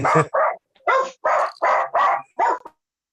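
A dog barks sharply and loudly up close, seven quick barks in an uneven rhythm with brief pauses between them, and no other sound around them.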